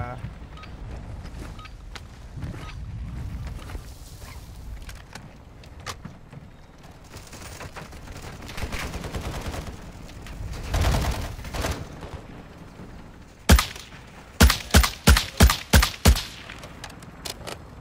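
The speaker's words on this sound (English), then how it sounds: "I'm just shooting this thing like crazy so I can get points for it" Gunfire in Call of Duty DMZ: scattered shots and bursts under game noise in the first half, then a loud run of about six sharp, evenly spaced shots near the end.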